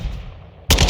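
Rapid automatic gunfire at a firing range in Modern Warfare II, a loud burst that starts abruptly after a low rumble and runs to the end of a very short moment.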